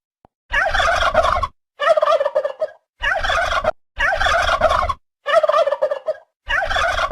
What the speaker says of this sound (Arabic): ديك رومي.